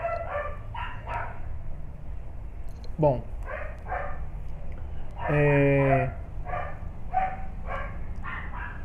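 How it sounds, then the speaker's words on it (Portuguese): A dog barks repeatedly in the background, in short bursts spread across the stretch, beneath a man lecturing on natural numbers in Portuguese. "o cachorro está me irritando, mas eu vou seguir sem tentar xingá-lo"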